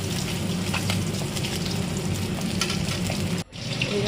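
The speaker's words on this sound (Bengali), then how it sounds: "মাছগুলোকে ভালো করে লাল লাল করে ভেজে নিচ্ছি।" Fish frying in hot oil in a wok, a loud, close, continuous sizzle with fine crackle that holds steady before a brief dip near the end.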